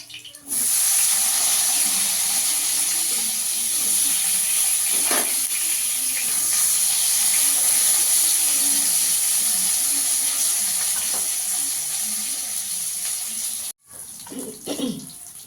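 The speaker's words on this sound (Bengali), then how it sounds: "এবার বেগুনগুলো ভেজে নেব" Eggplant pieces fry in hot oil, producing a continuous, even sizzle that starts abruptly and runs nearly the whole time, with occasional small pops, then cuts off before a short clatter.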